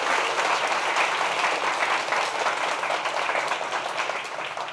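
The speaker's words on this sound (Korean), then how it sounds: "박수 다시 한번" A house-concert audience gives a pianist a renewed round of warm applause, a dense clapping crowd that starts strong and slowly tapers off toward the end.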